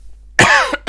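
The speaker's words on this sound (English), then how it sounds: "coughing into the mic" A single sharp, loud cough close to a microphone, followed by a brief second burst a moment later.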